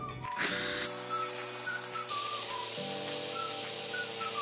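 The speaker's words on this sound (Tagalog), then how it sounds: "So, i-crush na muna natin ang ating Oreo. So, gumamit lang kayo ng food processor or pwede nyong dikdikin." A food processor crushes Oreo cookies with a loud, steady whirring motor drone that shifts pitch a few times as it runs, with no talking.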